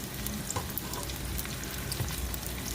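Homemade meatballs sizzle and fry steadily in a hot pan while being stirred and browned, with a constant close crackle and occasional soft scrapes and knocks.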